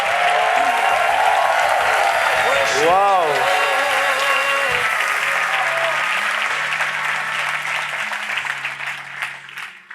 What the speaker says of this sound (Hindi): यीशु मसीह के लिए एक अच्छी ताली बजाएंगे।